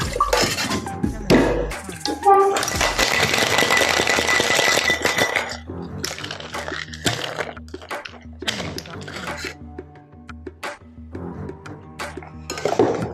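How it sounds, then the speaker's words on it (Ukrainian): A cocktail shaker holding ice and fresh mint for a South Side Rickey gives a dense, loud rattling burst lasting a few seconds, followed by lighter clatter under a background of music and talk. "І все це добре шикуємо."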